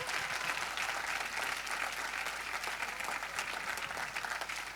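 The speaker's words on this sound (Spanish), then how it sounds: "Si le va a dar el aplauso al Señor" Sustained applause from a church congregation during a sermon, a dense steady roar of many hands clapping at moderate volume throughout.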